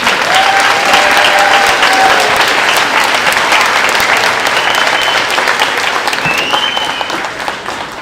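A school audience applauds at a fourth grade moving-up ceremony, a loud, dense wash of clapping with a few faint cheers and whistles, easing slightly toward the end.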